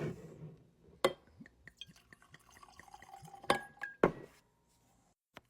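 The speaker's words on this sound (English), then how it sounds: "Let's get this in a glass and see what it's really all about." Yellowstone single barrel 119 proof bourbon being handled and poured into a glass, with sharp glassy clinks and knocks, a soft liquid pour and drips, close and quiet, with no talk.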